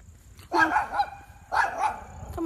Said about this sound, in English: Darn dog.